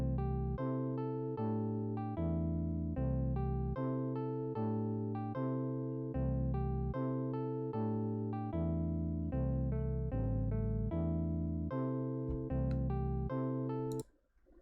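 A simple electronic music loop for a game tutorial plays a steady melody over a repeating chord progression and low bass notes in an even rhythm, loud and alone, then cuts off abruptly near the end.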